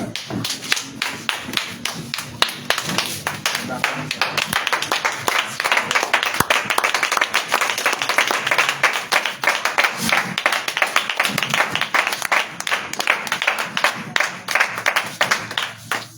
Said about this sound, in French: Debout, tu vas acclamer le Seigneur.